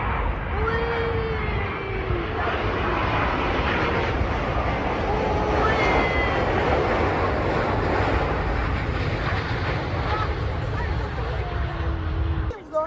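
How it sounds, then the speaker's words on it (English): A large airplane lands beside the runway near an Orlando airport car park, its jet roar loud, close and continuous throughout, mixed with wind buffeting the microphone. "it was right next to the runway, so you could see all the planes landing."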